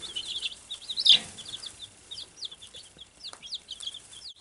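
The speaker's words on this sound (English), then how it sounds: "Happy little chicks." Baby chicks in a brooder chirp continuously in quick, high peeps, close by and steady, with a few louder calls and no talking.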